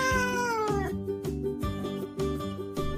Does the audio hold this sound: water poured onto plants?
no